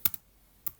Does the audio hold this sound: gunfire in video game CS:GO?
no